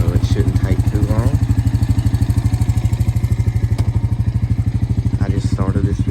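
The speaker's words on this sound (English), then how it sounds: "I'm gonna let this idle for a while." A Honda Rancher 350 ATV engine idles with a rapid, even putter and light mechanical clatter, close and steady throughout, while someone talks over it now and then.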